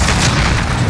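An explosive charge detonating in Modern Warfare, a single loud, close, booming blast that fills the short moment with heavy low rumble.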